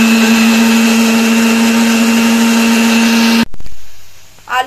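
A blender grinds cumin and spices into a paste with a loud, steady whine. It cuts off abruptly partway through and leaves a quiet room.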